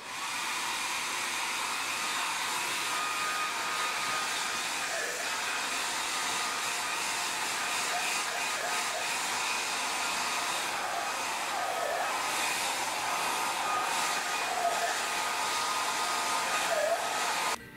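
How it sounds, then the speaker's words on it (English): A hair dryer blows continuously at a salon vanity, a steady even roar filling the whole stretch with no pauses or talk. "Time to blow dry."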